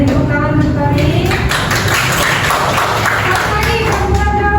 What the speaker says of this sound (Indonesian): beri tepuk tangan untuk Torik